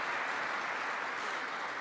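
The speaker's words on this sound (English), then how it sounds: "I thought that might get an applause" Faint, steady audience applause at farewell remarks to troops, a continuous even patter of many hands with no other sounds over it.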